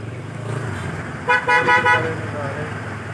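A car horn sounds in a traffic jam on the Neelum Valley road, giving a loud, fairly close burst of honks midway over a steady engine rumble, while someone talks.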